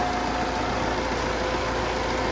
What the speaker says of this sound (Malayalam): ഇതാണിപ്പോൾ ഇതിൻ്റെ എൻജിൻ സൗണ്ടും കാര്യങ്ങളെന്ന് പറയുന്നത്.